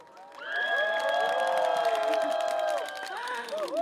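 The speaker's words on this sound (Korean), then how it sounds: "여러분들 박수 많이 쳐주시고 호응 많이 부탁드립니다" Festival concert crowd at a rapeseed flower festival cheering and shouting with scattered clapping, a sustained loud roar of voices swelling in and holding before easing slightly near the end, with some voices standing out above the crowd.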